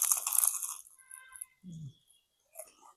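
A loud, close crunch of biting into a homemade Australian Chiko Roll, a fried pastry roll, fills the first moment as a dense crackling burst, followed by soft chewing and near silence.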